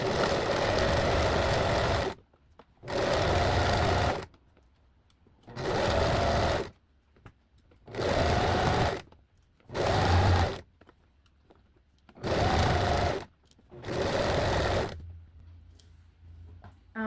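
Sewing machine stitching fluffy fleece sweatshirt fabric, running in seven steady bursts of about two seconds each with short quiet pauses between, close and loud with no talking.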